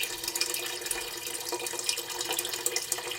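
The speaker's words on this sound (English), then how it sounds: "And then I'm going to add about 6 cups of broth." Onion and beef broth pours into a pot for French onion soup, a steady close splashing trickle of liquid with faint bubbling, heard alone without talk.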